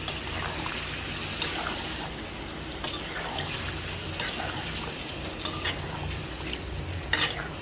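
Duck meat sizzles in a pan of cooked spice paste as it is stirred, a constant frying hiss broken by scraping spatula strokes and occasional louder clatters.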